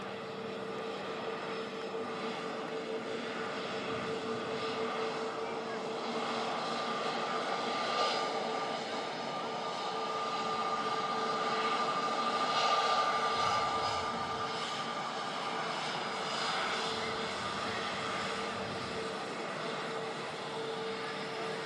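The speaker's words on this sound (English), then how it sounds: "Airbus A380 landing here at Manchester Airport's 23." An Airbus A380 landing on runway 23 at Manchester Airport, a steady droning engine roar with a whining tone that swells slightly toward the middle and stays continuous throughout from a moderate distance.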